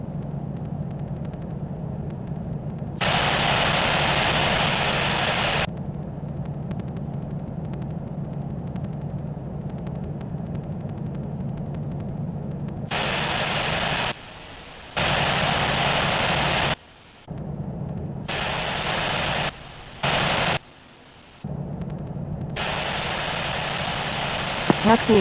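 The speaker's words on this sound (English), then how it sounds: "Taxiing to runway 22 right, will hold short." A Delta Airbus A350 jet taxiing toward runway 22 right, its engines giving a steady loud whine and rumble throughout, broken by short bursts of radio chatter.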